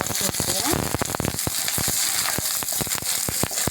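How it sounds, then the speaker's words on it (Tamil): A small piece of asafoetida crackles and sizzles in hot oil with garlic, a steady close frying hiss dotted with sharp pops throughout. "ஒரு சின்ன பீஸ் பெருங்காயம் கட்டி பெருங்காயத்தை நான் ஆட் பண்ணிக்கிறேன் லைட்டாக வதக்கி"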